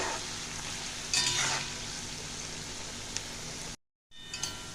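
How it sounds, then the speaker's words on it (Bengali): Shredded potatoes deep frying in hot oil for a crisp jhuri aloo bhaja, a steady loud sizzle with a brief surge of bubbling, then a sudden cut to silence before the frying hiss returns. "আবারও বেশ কিছুটা দিয়ে দেবো এক দু মিনিট মতন ভেজে নিচ্ছি"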